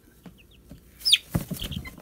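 A young cockerel, comb not yet grown in and still pinkish, gives a few short clucks near the end, close and fairly clear over quiet background with faint scattered chirps earlier.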